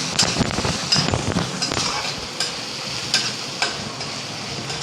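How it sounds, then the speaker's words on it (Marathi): Green chilies and garlic sautéing in a pan over lowered heat, a soft sizzle with intermittent stirring scrapes and light metallic clinks, no talking. "मिरची आपल्याला परतून घ्यायची छान, म्हणजे त्याचा कच्चेपणा निघून जातो"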